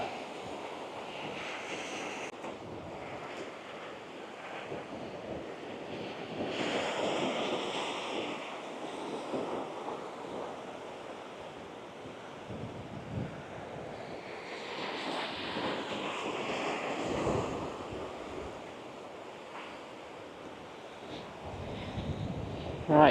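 Wind gusting steadily across a beach with surf breaking underneath, a continuous broadband roar that swells and eases without pause and carries no speech.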